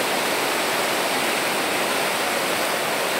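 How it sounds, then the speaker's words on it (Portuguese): Water from the overflowing Acaraú Mirim dam in Massapê, Ceará, rushes over the spillway in a dense, steady roar, loud and continuous throughout with no voices. "Olha aqui a vazão, a força das águas."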